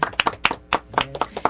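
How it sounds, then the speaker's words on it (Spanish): Scattered handclaps, a few distinct claps at irregular intervals, close and crisp, from a small audience at a talk show. "Aplausos."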